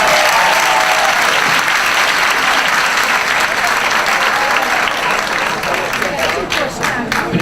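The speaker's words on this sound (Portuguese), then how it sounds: "Queria até que vocês dessem uma salva de palmas para vocês mesmo" An audience at a debate claps in a long, loud, continuous round of applause, many hands blending into a dense wash that tapers a little near the end.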